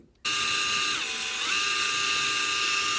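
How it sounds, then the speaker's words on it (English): A high-pitched drill whines continuously up close, its pitch dipping briefly as it bites into the metal rivet of a diecast NASCAR model car, then rising again. "Just kind of keep drilling until you can pull it out."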